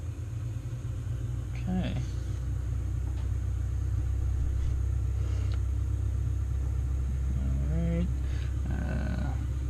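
A Cessna 172R engine idles just after start, a steady low rumbling drone throughout, with a person briefly speaking over it.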